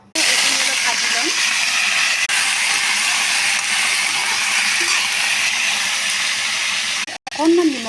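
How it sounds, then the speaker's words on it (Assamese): Boiled jackfruit curry ingredients with ginger, garlic, chilli and onion paste frying in a pan, a loud steady sizzle and hiss running throughout, with brief stirring clinks near the end. "এইখিনি অলপ ভাজি ল'ম।"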